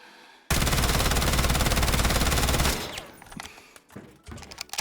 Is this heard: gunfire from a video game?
yes